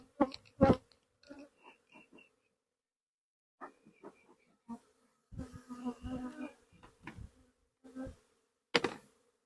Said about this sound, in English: You still got a mess of bees in there.